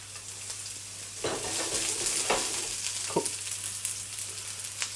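Sliced onion hits cold pressed rapeseed oil in a clean pan and sets off a steady, close sizzle, with a few stirring scrapes near the middle and no voices.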